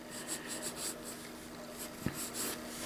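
Pencil sketching on paper, soft continuous scratchy strokes in short repeated passes with a steady background hum and one small knock partway through.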